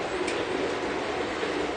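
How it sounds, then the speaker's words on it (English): A Lionel model train's station sound effect plays as a steady, fairly quiet wash of hiss and rumble, like a busy rail station's ambience, with no clear distinct events. "That's the station sound."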